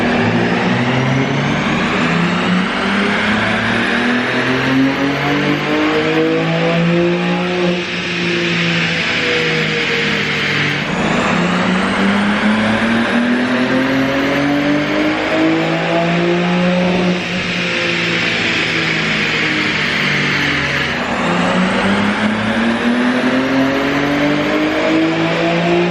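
A tuned BMW G80 M3 engine winds up under load on a dyno, loud and close, rising in pitch through the gears with a steady drone and short dips at each shift, repeating over several long pulls.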